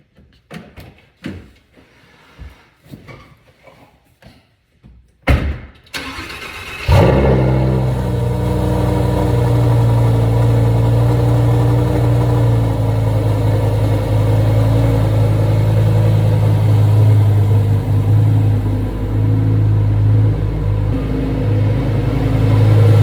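A Ferrari Aperta sports car engine cranks with a few sharp bursts, fires up loudly, and settles into a steady, deep, close rumbling idle that continues alone without any voices.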